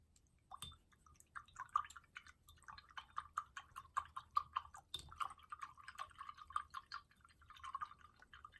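A paintbrush being rinsed in a water container during a painting session, with faint drips, small splashes and swishing taps against the container, soft and close with no talking.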